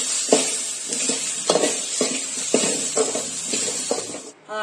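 Tomatoes sizzling in a pan, with a spatula scraping and stirring in regular strokes, close and moderately loud.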